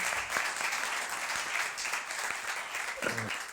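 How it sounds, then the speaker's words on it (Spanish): A lecture-hall audience at a Spanish talk on Italian TV series applauds steadily as a guest blog author heads to the stage, broadband clapping filling the room, with a brief low voice or murmur near the end. "Aplaudidle, por favor, que si no, no sube"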